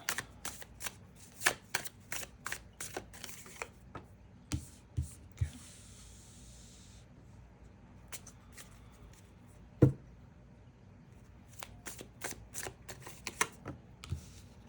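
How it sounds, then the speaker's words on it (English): Tarot cards shuffled by hand in quick bursts of crisp riffling and slapping, close and fairly quiet, with a brief louder snap near the end and no talk. "I'm gonna reshuffle that."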